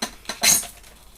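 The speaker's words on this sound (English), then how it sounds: "Nothing like a bit of stone on glass." A brief, harsh scrape of stone against glass beside a Leuchtenbergia principis cactus, rising into a shrill grating squeal before fading, heard up close with no voices.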